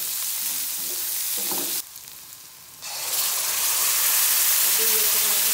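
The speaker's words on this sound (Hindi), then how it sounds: "ये इसमें मैंने थोड़ा लहसुन डाल दिए" Garlic fries in a little oil in a pan for pizza sauce, making a loud, continuous close-up sizzle that drops briefly near the middle and then returns even stronger.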